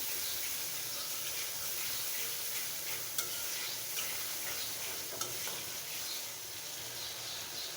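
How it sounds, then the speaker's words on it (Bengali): Masala with cumin paste fries in a pan with a constant dense sizzle, close and steady, with occasional light scrapes from stirring. "আমি জিরা পেস্ট দিয়ে আবারও ভালোভাবে মশলাটাকে কষিয়ে নেব"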